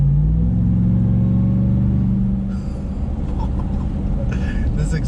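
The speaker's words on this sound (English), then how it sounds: "This exhaust note is insane, and this thing is so incredibly smooth." A 2021 Ram TRX pickup truck's engine rumbles deep and steady, its exhaust note swelling slightly as it revs, with some faint higher noise near the end.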